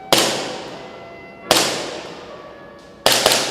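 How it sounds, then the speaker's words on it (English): An ASG CZP09 Urban Gray airsoft pistol fires Valken .20 green tracer BBs through an Acetech Lighter-R unit, three sharp, loud shots spaced about a second and a half apart, each with a short ringing decay. "I will be shooting the Valken"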